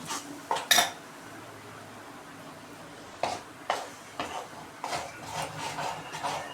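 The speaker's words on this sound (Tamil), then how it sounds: "இப்போ கரண்டி வச்சு இது மாதிரி தான் மிக்ஸ் பண்ணி விட்டுக்கணும்." A metal spoon stirs pudina chutney in a vessel, giving quiet, intermittent scrapes and clinks with pauses in between.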